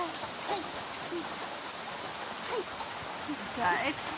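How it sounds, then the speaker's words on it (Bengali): Rain falls steadily in an even, moderate wash with a few faint drips and splashes, and a voice talks quietly now and then. "দাঁড়া দাঁড়া তোমাকে ভালো করে দেখাই বৃষ্টি"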